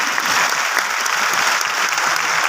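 Loud, dense applause from an indoor audience at a business meeting, steady clapping throughout without pause.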